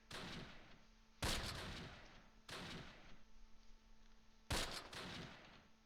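Gunfire in the World War II strategy game Close Combat Last Stand Arnhem, at Groesbeek Heights: four sharp shots a second or so apart, each trailing off into a brief rumble, fairly faint overall.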